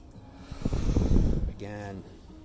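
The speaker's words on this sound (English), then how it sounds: "Breathe through your nose. Out through the mouth." A person takes a deep breath in through the nose and out through the mouth during a Wim Hof breathing exercise: a loud, close rush of air, followed by a short voiced sound.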